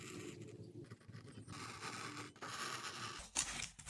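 A scalpel cuts through adhesive vinyl along a paper template, making faint, close scratchy scraping strokes in short irregular bursts, with no talk.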